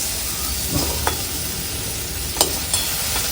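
Vegetables sautéing in butter in a pan for a veg paneer cheese bread pizza, a steady soft sizzle with a few brief stirring scrapes, close and continuous, no talking.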